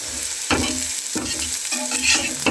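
Carrots and noodles frying together in a pan, a continuous hiss of sizzling with a few louder scraping stirs of a spatula.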